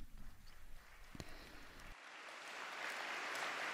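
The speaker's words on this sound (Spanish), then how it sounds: "el aplauso de respuesta de los fieles de habla inglesa" Applause from the English-speaking faithful at a papal general audience swells into a broad, steady wash of many hands clapping, starting after a brief lull and growing louder, with no voices over it.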